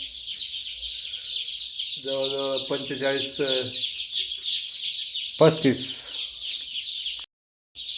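Young birds on a poultry farm chirp in a dense, continuous high chorus close by, while someone speaks briefly over it.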